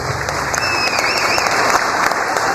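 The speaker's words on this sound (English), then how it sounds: "Could we get a big round of applause for our employees?" A big round of applause for employees at a restaurant reopening, loud dense clapping from a crowd with a few whistles cutting through.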